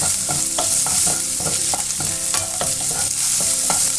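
Ginger and garlic sautéing in a hot pan for Kumbakonam-style kadappa, a steady close sizzle broken by repeated rhythmic scrapes and knocks of a spoon stirring against the pan.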